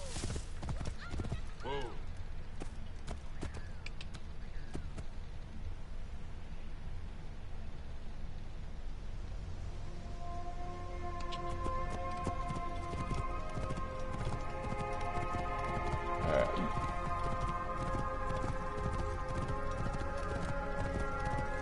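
Horse hooves clip-clop steadily through a ride in the Assassin's Creed Origins game, with occasional whinnies, under game music and ambience while a person talks over it.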